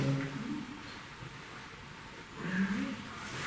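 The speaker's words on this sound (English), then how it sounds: "That's a car. Surely that's a vehicle." A car passes outside Fort Amherst at a distance, its faint engine and tyre hum swelling briefly, then fading.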